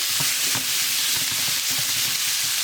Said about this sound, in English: Throw our garlic in there.